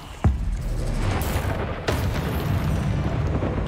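Confringo and Bombarda spell blasts from the video game Hogwarts Legacy: a sharp booming explosion followed by a second heavy burst, each leaving a loud rumbling roar that lasts to the end with no talking.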